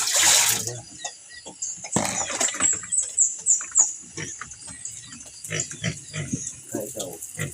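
A pig on a farm gives a run of short, rough grunts through most of the stretch, close and moderately loud, with splashing, rustling and people talking in the background.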